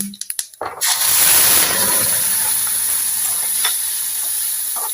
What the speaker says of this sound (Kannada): ಒಗ್ಗರಣೆಗೆ ನಾನು ರುಬ್ಬಿ ಇಟ್ಕೊಂಡಿದ್ದೀನಲ್ಲ ಹಾಗಲಕಾಯಿ, ಇದನ್ನು ಹಾಕ್ತಾ ಇದ್ದೇನೆ.